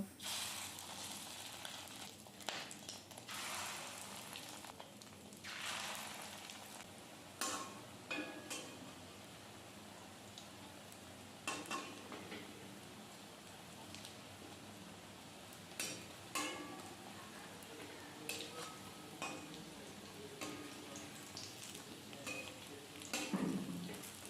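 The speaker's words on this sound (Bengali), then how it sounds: "সেই ডিমটা এখন আমি ভেজে নেব" Fish roe sizzling in hot mustard oil, a continuous frying hiss broken by occasional scrapes and clinks of a utensil against the pan.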